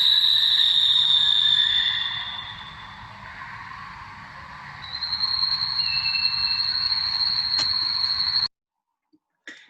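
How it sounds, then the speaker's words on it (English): A steady nighttime chorus of frogs and insects beside a river drones on, a high shrill trill over a dense low croaking bed, continuous until it cuts off abruptly near the end. "You could listen to some of the frogs that we recorded before."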